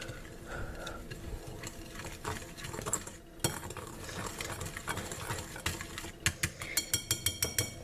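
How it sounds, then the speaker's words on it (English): Whisk scraping and clinking in a bowl of dry sugar and cornstarch for custard, a steady busy stir that ends in a run of sharp, evenly spaced metallic taps on the bowl rim. "I want to go ahead and give those dry ingredients a good mix with a whisk"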